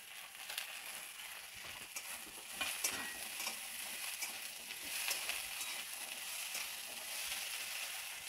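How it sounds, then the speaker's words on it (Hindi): Diced potatoes and peas sizzle and crackle in a pan with onion and green chilli, a steady close frying hiss broken by occasional stirring scrapes. "फिर दो मिनट तक मैं इसे फ्राई कर लेती।"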